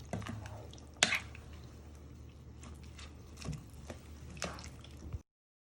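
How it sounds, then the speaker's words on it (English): Lemon squeezed by hand over a soup pan for hot and sour soup, juice falling in soft wet drips and squishes with one sharper tap, quiet and close, no talk. "squeeze your lemon juice into your pan"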